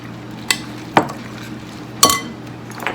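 A spoon stirs casserole ingredients in a dish, giving a few sharp clinks and scrapes against the sides over a few seconds, close and clear.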